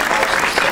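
Festival audience clapping at a Sikh arts and film event, a dense, steady burst of applause filling the space.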